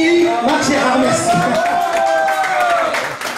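A live audience applauds a performer named Marc Gérard, dense clapping from a crowd, steady and loud throughout, with a voice speaking over it.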